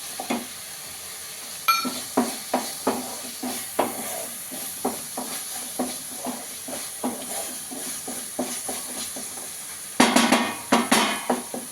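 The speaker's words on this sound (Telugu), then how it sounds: "టమాటో కూడా కొంచెం నూనెలో బాగా ఫ్రై అవ్వాలి" Tomato pieces and curry leaves fry in hot oil for an egg curry, a steady sizzle broken by repeated scraping stirs in a pan, growing louder and busier near the end.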